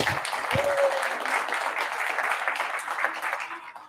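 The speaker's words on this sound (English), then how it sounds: "another round of applause" A lecture audience applauds steadily, a dense wash of clapping with a voice briefly heard over it near the start.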